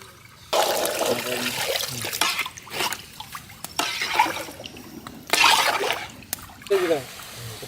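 Water poured in several splashing bursts while making khaja sweet in a village kitchen, close and intermittent, with a person talking in between.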